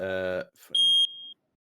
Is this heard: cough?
no